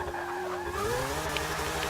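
A Mazda MX-5 Cup drift car in the video game Forza 6 squeals its tires in a long sustained skid over a steady engine drone, the pitch sliding upward as it drifts.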